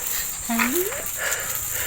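Puppy at a rural home giving a single short rising whine, fairly close, over a steady background hiss.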